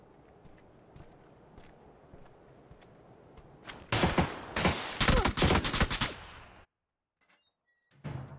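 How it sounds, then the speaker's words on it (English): A grenade explosion in PUBG bursts loudly in a cluster of sharp blasts and crackling debris that lasts a couple of seconds, then cuts to near silence before another short burst. "That's a grenade."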